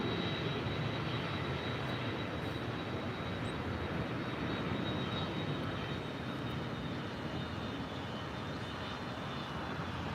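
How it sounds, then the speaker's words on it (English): A Korean Air Airbus A380 rolls for takeoff on runway 24 left at LAX, a steady, broad jet rumble with a thin high whine running through it, unbroken and moderately distant. "the Korean Air A380 now rolling on 24 left"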